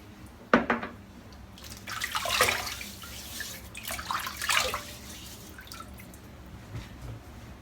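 Water splashes and drips as a head is wetted before a shave, with a few sharp splashy bursts and trickling between quieter moments, close and moderately soft.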